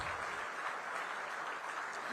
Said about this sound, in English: Everyone, please give a thundering round of applause.